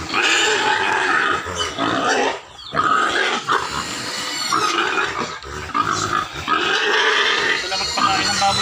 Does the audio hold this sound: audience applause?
no